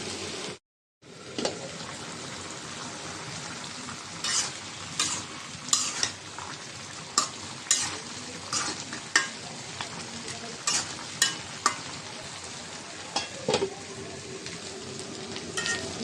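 Small fish sizzle steadily in hot oil in a kadai, with a continuous frying hiss broken by sharp clicks and scrapes of stirring throughout.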